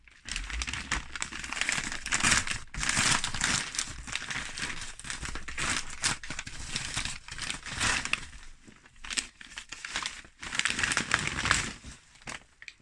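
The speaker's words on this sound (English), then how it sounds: "It's time to rip it open and see what we've got. So cue lots of rustling." Continuous loud crinkling and ripping of a padded mailer bag, rustling in bursts for several seconds with no talking.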